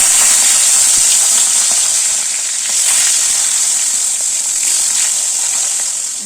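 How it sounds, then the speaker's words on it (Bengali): Pomfret fish frying in hot mustard oil in a kadai, giving a loud, steady sizzle with crackling pops throughout and no voices. "এবার এই তেলে মাছগুলোকে ভেজে নেব।"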